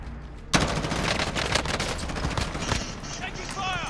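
Rapid automatic gunfire and bursts of shots in Call of Duty: Modern Warfare crackle loudly and densely for several seconds after a sudden start, while a voice talks over the battle noise.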